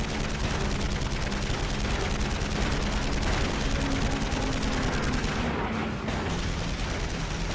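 Dense, continuous machine-gun fire rattles without pause in a WWII dogfight re-enactment between American P-47 Thunderbolts and German fighters over France, a loud sustained barrage throughout.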